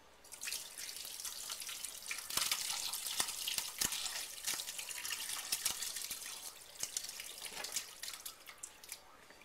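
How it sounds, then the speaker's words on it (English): Goat cheese curds and whey pour into a cheesecloth-lined colander, producing a soft continuous trickle and splash with scattered sharper drips and plops, quiet and close. "now we're going to pour out the curds and the remaining whey into the colander lined with"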